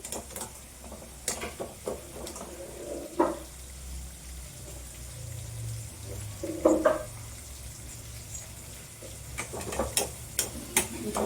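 Garlic sautés in oil in a pan, a soft low sizzle broken by scattered clicks and taps of a utensil, fairly quiet and close, with no voices.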